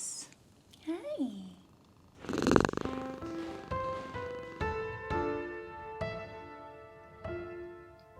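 A house cat purrs while being fed, with a soft, low rumble close by, broken by louder bursts, and brief chirpy, tonal sounds in the background.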